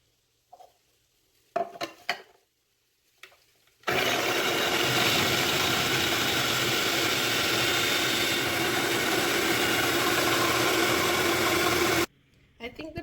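A food processor grinds cassava and sweet potato for a pudding, running loud and continuous for about eight seconds after a few kitchen clatters, then cutting off abruptly.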